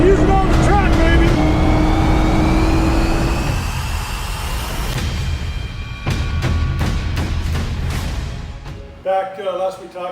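A 1999 Ford SVT Cobra with a Coyote V8 swap on a racetrack, its engine note loud and steady at first, then dropping into a rougher, pulsing rumble before fading near the end.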